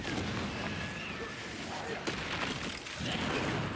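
Confringo fire-blast spell going off in Hogwarts Legacy, a dense, noisy burst of crackling explosive energy lasting several seconds, loud and close, with a brief dip before a second surge near the end.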